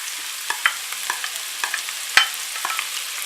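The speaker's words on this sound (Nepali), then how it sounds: "अब म यसमा प्याज राख्न गइरहेको छु।" Onions tossed into hot oil in a pan for a rose momo filling, a steady close sizzle broken by sharp clicks and scrapes of stirring, with no voices.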